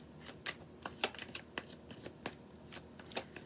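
A deck of tarot cards being shuffled, with close, crisp riffling bursts repeating irregularly for a few seconds, no talking.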